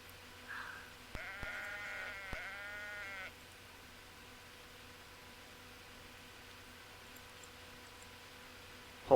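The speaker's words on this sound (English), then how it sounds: "I'm really getting tired of the sheep." A video-game sheep bleats in a couple of close, wavering calls, followed by a long stretch of near silence over faint background hum.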